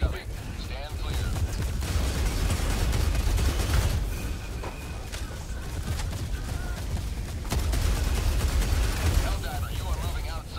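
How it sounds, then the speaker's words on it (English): Orbital barrage strikes in Helldivers 2 pound continuously, a heavy rumbling wall of explosions and gunfire with sharper cracks throughout, while voices talk over the din. "Orbital barrage incoming. Stand clear."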